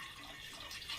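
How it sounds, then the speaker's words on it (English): Water trickles faintly into a jar holding about two tablespoons of tiny sprouting seeds, a soft, brief splashing pour heard close up with no voices. "And then I will add water to that."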